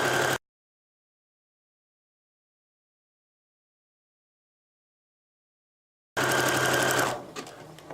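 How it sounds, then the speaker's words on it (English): Sewing machine stitching a buttonhole for a pillow cover, heard as a brief whirring burst at the start, then a long silence, then about a second of steady close mechanical running that stops abruptly. "I'm just going to hit the button. And it's going to make a buttonhole perfectly sized."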